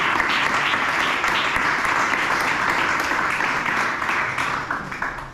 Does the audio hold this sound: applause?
yes